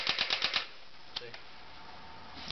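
A P90 airsoft gun fires full automatic in one short, rapid burst of about five sharp clicking shots, followed by near silence.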